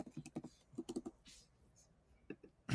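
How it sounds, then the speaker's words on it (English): Keys clack on a computer keyboard in quick irregular bursts, fairly close and distinct, with brief pauses between runs of typing. "Do you think that typing is a little loud?"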